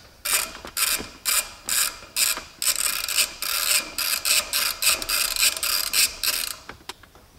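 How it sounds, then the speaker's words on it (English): A ratcheting T40 Torx driver undoes two big screws on a C5 Corvette Z06 shifter, giving about twenty short, regular bursts of close, crisp clicking with brief gaps between them. "we're gonna want our T40 Torx. We're basically just gonna get in here and undo these 2 big screws"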